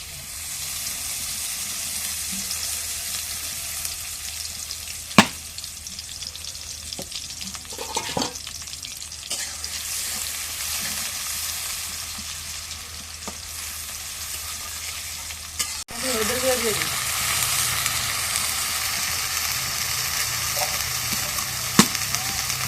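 Chicken frying in oil on a clay stove in a village setting, with a steady close sizzle and occasional stirring clatters and knocks, growing louder near the end.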